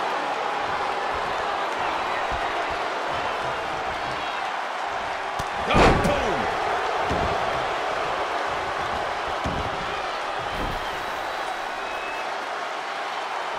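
Scoop slam impact in the wrestling video game WWE 2K20, Brock Lesnar versus Roman Reigns, heard as a single sharp body-on-mat thud over steady arena crowd noise, with a commentator talking throughout.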